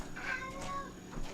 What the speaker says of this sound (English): You know, cat.